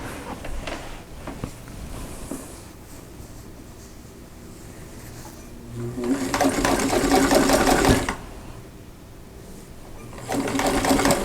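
A sewing machine stitches the folded edge of a pillow cover in two loud, steady bursts of rapid whirring, each lasting a few seconds, separated by quieter handling sounds.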